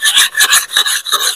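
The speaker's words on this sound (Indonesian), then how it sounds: "baru kita gunakan asah yang halus" New oil palm harvesting sickle being sharpened on a fine whetstone, quick close rasping strokes repeated in an even back-and-forth rhythm, loud and alone.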